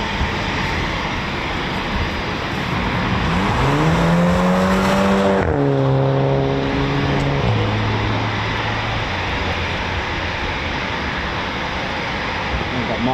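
A loud RAF Typhoon FGR4 fighter jet roars past near an air base, its engine pitch sliding downward as it passes, then fading into a steady broad rumble that lingers to the end.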